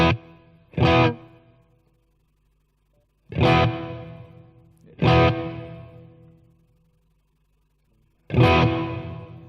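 A Boss Katana guitar amplifier on its hall reverb setting: distorted guitar chords strike one at a time with gaps between them, each decaying through a long, smooth reverb tail into silence.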